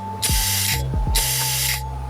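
Compressed air at 20 psi hissing into the turbo wastegate actuator of a Mitsubishi 4D56T diesel engine, in two loud, steady bursts of roughly half a second each, separated by a short gap with a low background hum.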